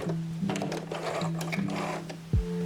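A sewing machine stitches a short backstitch to finish a seam, with a close, rhythmic mechanical whir that starts and stops in quick bursts before a final stop.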